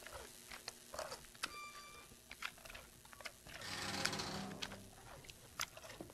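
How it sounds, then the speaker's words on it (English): Puppies crunchily eating in the horror game Madness Inside: rapid, irregular clicky crunching and chewing bursts, fairly faint, with a brief swell of wet noise midway. "Are those puppies eating?"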